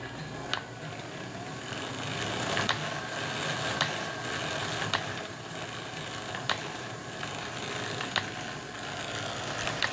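A variable-speed DC motor drives a range ball striper, running steadily with a continuous mechanical whir and periodic faint clicks of the mechanism, with no talking.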